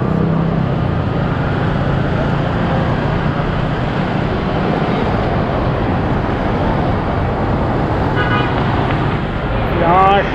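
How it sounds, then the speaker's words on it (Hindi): Busy street traffic in Da Nang, Vietnam, makes a constant roar of passing engines and road noise, with brief horn toots near the end. "यहाँ ट्रैफिक का बहुत बुरा हाल है, ट्रैफिक रश होता है ज़्यादा"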